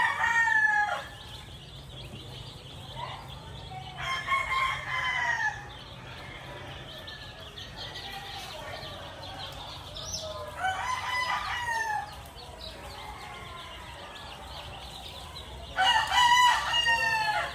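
Claret gamefowl roosters crow loudly and near, four separate crows spaced several seconds apart. Softer clucking and yard noise fill the gaps.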